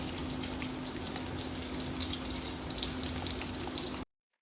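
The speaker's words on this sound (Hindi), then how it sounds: "प्याज को आपने हिलाना है, इसको फ्राई करेंगे अच्छे तरीके से।" Two medium onions frying in hot oil in a large pot, a dense steady crackling sizzle, close and loud, running without a break before cutting off abruptly, with no talking.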